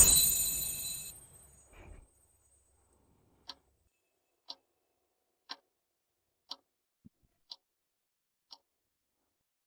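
Clocks from a collection tick in sharp, evenly spaced single clicks about a second apart, faint and close in an otherwise quiet room, after a brief burst of noise at the start.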